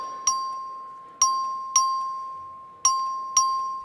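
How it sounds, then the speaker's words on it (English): Bell struck in a legislative chamber, five sharp metallic rings at uneven intervals, each ringing out clearly and decaying slowly into quiet. "Clerk, ring the bell."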